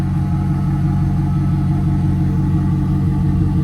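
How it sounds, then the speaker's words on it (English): A car exhaust purrs at idle, a deep, steady rumble that stays constant and close, with no voices. "let's listen to that exhaust purring"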